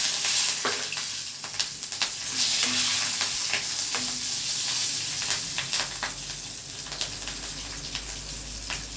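A Gujarati tempering of mustard seeds and asafoetida sizzles in hot oil, with a dense hiss and many fast, irregular crackling pops that ease slightly toward the end, heard close with no talking.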